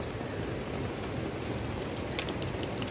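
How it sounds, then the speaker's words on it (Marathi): Rainwater dripping off a tied plastic sheet during monsoon rain in a Konkan village, a dense, even patter of drops on the surface, steady and close throughout. "कागद बांधलाय ना त्याचं पाणी टपक टपक पडलंय ना"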